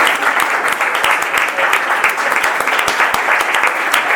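Applause from an audience at an open seminar, many hands clapping in a steady, fairly loud and near patter that carries on without pause and without speech over it.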